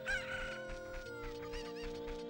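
Chickens in Ocarina of Time clucking and squawking in quick bursts, close and fairly loud, over a steady layer of game music.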